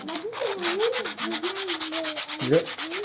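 Steady abrasive whirring of a power sander grinding against a surface, with rhythmic pulsing and a wavering motor pitch throughout.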